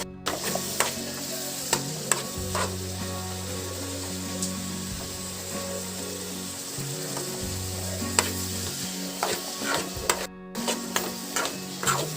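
Prawn roast mixture being stirred in a pan, with a steady sizzle and repeated scraping strokes of the spoon at a moderate pace throughout, and no voices.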